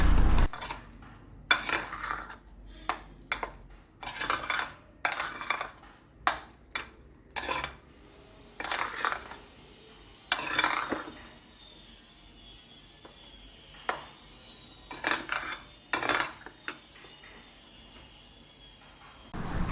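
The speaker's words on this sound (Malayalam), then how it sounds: "ഇനി നമുക്കിതെല്ലാം കൂടി ഒന്ന് മിക്സ് ചെയ്തെടുക്കാം" Beaten rice, sesame, sugar and coconut being mixed in a bowl: repeated clinks and scrapes of a spoon against the bowl in irregular bursts, fairly close, with brief pauses between strokes.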